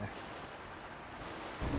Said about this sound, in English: It's sailing pretty fast with the wind from the fans.